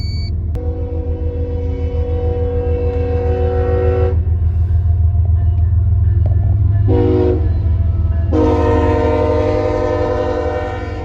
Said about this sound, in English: The train really moves, and it's a priority train